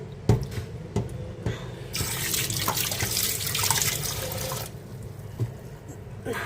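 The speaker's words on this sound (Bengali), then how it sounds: "এখন হচ্ছে ভালো করে ধুয়ে পরিষ্কার করে" Running tap water rinsing freshly cut fish in a kitchen sink, a steady close splashing rush that swells loudly midway, with hands handling the pieces and light knocks underneath.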